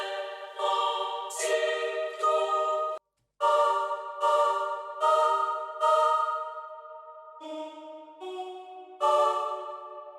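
A Metropolis choir layer for an orchestral break in a hardstyle track, with sustained sung chords in short phrases, a brief gap near the middle, then lower held notes. It sounds full and bright, with no voices talking.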